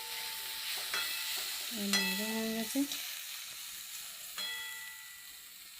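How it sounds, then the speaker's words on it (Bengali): Onions fry and get stirred in a pan at home, giving a quiet, steady sizzle with occasional scraping of the spatula, while a person speaks briefly over it. "এই যে দেখুন পেঁয়াজটা অনেকটাই ভালো ভাজা হয়ে গেছে"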